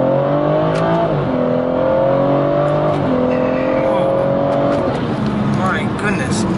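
BMW 440i with a B58 engine in sport plus mode accelerating hard, climbing through gears with rising engine tone and shifts, then crackling exhaust pops near the end; loud and close, with someone talking over it.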